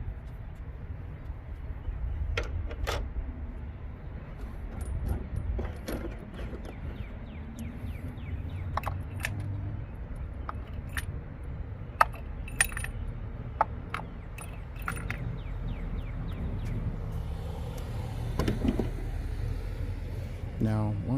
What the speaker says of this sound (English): you get all of your new spark plugs and you go ahead and start dropping them all in.